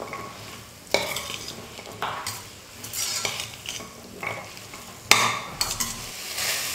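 Vegetable kurma masala sautéed in a pan over a medium flame: a soft background sizzle broken by about five or six sharp scraping strokes of a spoon across the pan, close and uneven in rhythm.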